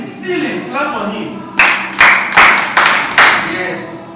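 Children at a kids' camp clap in several short, loud bursts of sharp, quick claps, close by, following quieter talk at the start.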